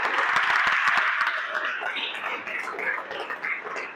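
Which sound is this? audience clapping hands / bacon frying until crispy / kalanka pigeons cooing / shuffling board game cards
audience clapping hands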